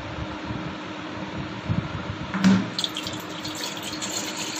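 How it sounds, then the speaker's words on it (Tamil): Water is poured into a vessel from a tap to make sugar syrup for paneer jamun, a short splashing gush over a steady fan-like hum in a kitchen. "தண்ணி ஊற்றிக்கலாம்."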